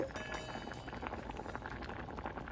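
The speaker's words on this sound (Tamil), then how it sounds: "இப்போ கொதிக்கட்டும்" A pot of fish curry with curry leaves bubbles steadily at a low, quiet level, a soft continuous burble with no talking.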